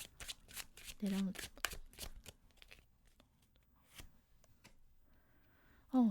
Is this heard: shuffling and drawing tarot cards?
yes